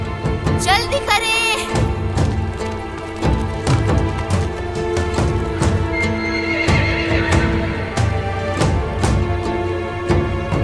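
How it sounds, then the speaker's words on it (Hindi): A horse gives a sharp, high whinny near the start of a scene from a Turkish historical drama, over dense dramatic music with hoof and battle-like thuds continuing throughout. "जल्दी मेरा घोड़ा लाए"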